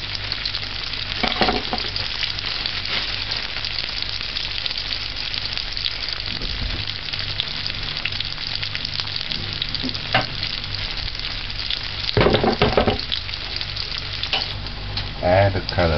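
Callaloo greens stir-fried in a hot pan, a steady close sizzle and crackle running throughout with occasional scraping and stirring clatter from the utensil, no talking.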